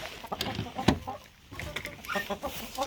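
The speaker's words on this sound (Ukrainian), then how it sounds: "Ось півник." Chickens clucking around a coop in wintry frost, with a rooster's sharp call standing out near the middle amid scattered farmyard noise.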